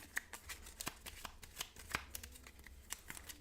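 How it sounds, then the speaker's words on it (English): A deck of Finspan board game cards is shuffled by hand, quiet close riffling and crisp card snaps in quick irregular succession with no talking. "We shuffle his deck back up"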